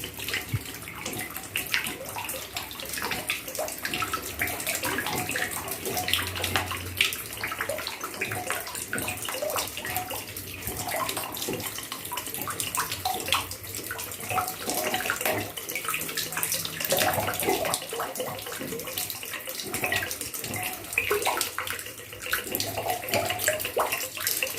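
Water pours steadily into the tank of a water pump being repaired, a continuous close splashing and gurgling that runs on alone without a break.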